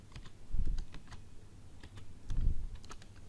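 Code being typed on a computer keyboard in a Python programming session, scattered key clicks with two denser bursts of keystrokes, close and moderately loud, no talking.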